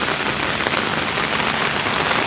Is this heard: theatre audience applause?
no